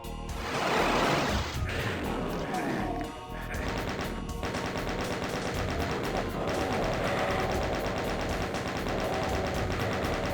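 Doom's BFG and chaingun combat in a DSDA-Doom custom megawad: dense, continuous game gunfire and explosive bursts, loudest in the opening seconds, with heavy layered blasts running steadily throughout and no talking.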